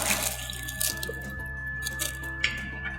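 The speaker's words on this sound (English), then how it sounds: "we're going to take the 1 litre of beef stock, and that's going to go straight into the slow cooker" A litre of beef stock is poured into a slow cooker for French beef stew, a close, steady trickling and splashing with small drips over a low hum, with no talking.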